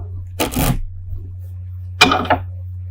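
Tarot cards shuffled by hand in two short riffling bursts with a pause between, close and crisp over a steady low hum.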